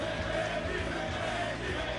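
Sold-out crowd at the PBA Tour Finals bowling event in Bethlehem, Pennsylvania, a dense steady roar of cheering and shouting filling the arena.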